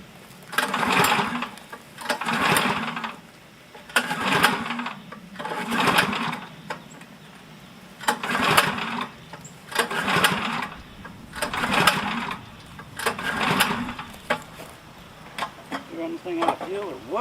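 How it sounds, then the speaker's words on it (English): The small engine on a Champion 27-ton log splitter drones steadily nearby, swelling and easing in regular cycles as the splitter works through logs, with voices now and then. "I'm going to split a few of these open with my Champion 27-ton splitter here"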